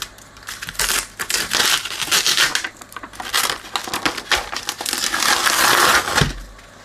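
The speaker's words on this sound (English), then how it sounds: "Start by peeling this off." A sticky label being peeled off a plastic lid during a preamp repair, giving close, loud crinkling and tearing bursts in irregular runs over about seven seconds, with no talking.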